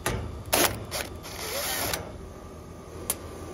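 Screws being removed from a heat pump's outer panel, with a few short metallic ratcheting bursts from a nearby screwdriver or driver, separated by quieter handling noise.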